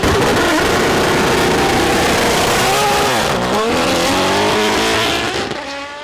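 An Aston Martin Valkyrie with a Cosworth 6.5-liter naturally aspirated V12 screams at high revs, the loud engine note rising and falling through shifts before fading away at the end.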